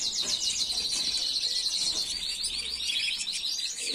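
Small cage bird chirps steadily in rapid high trills and tweets, close and fairly loud, filling the whole moment with continuous song and no talking.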